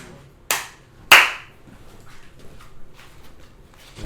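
Two sharp hand claps, about half a second apart, ring out loud and close in a quiet room, followed by low background noise.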